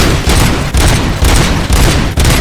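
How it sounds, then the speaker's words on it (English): Heavy artillery and gunfire in the RoboCop: Rogue City video game, a dense, loud barrage of booming blasts and rapid shots running almost continuously, with brief dips between volleys. "Artillery."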